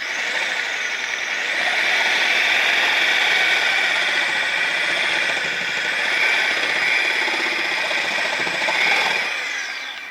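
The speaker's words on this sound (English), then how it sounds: "we're just going to use a Sawzall blade with a plastic" Sawzall reciprocating saw with its blade cutting through plastic sewer pipe, a loud continuous buzzing rasp held steadily for about ten seconds with slight pitch wavering, close up and with no talking.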